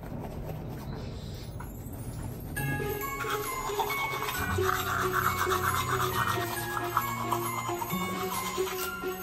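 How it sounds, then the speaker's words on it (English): Teeth brushed with a toothbrush during a winter morning routine, a close, steady scrubbing and rubbing that continues throughout with no talk over it. "I've gotten a lot better with like brushing my teeth lately"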